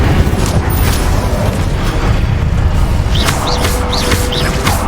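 Incendio fire spell blast in Hogwarts Legacy, a loud continuous rushing, roaring burst with crackling noise and game sound effects layered over it, no speech.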